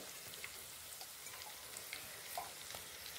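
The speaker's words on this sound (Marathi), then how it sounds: "आता याच्यामध्ये अद्रक लसूण पेस्ट करून घेतली आहे ती टाकून घेणार आहे" Ginger-garlic paste frying in a pan for poha makes a faint, even crackling sizzle with light irregular pops throughout.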